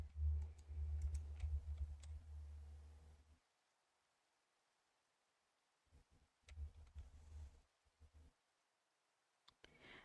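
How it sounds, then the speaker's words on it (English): Computer mouse clicks sound during PC game play, with bursts of heavier low rumbling game noise early on, a quiet stretch, then more scattered short clicks and taps. "I think you'll probably hear me clicking my mouse more than you can actually hear me placing things down"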